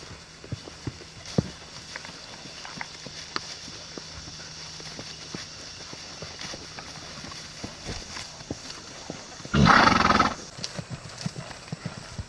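A mare lopes across a big open field on a trail, her hoofbeats giving a faint, irregular clip-clop at a distance, with one short louder burst near the end.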